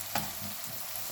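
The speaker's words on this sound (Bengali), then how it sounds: "তো পেঁয়াজগুলো এখন ভেজে নিব।" Onions fry in a wok with a continuous, low sizzle and a single light knock or stir near the start, close and faint.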